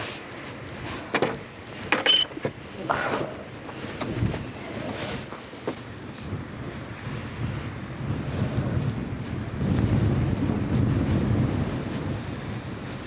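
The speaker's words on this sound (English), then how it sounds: "Oh gosh, it's windy." Strong gusting wind on the coast of the Isle of Harris buffets the microphone, rising into a sustained roar, with a hint of surf underneath and no voices.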